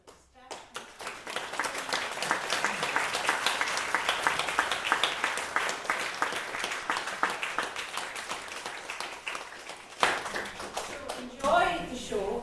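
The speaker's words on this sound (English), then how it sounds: "a round of applause for the staff." An audience at a performance gives the staff a round of applause, sustained dense clapping that swells and holds for about ten seconds before tapering, followed by a brief burst of voices.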